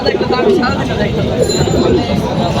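Several pigeons coo softly amid a crowded, noisy backdrop of chatter and general market bustle at a pigeon market in Kaptan Bazar.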